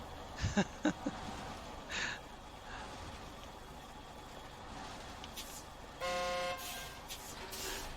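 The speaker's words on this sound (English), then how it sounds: "Yeah, honk the horn." A truck horn in the off-road driving game SnowRunner, on a Wisconsin map with an 8-spot trailer attached, gives one steady honk lasting under a second over a low engine rumble and a few earlier thumps.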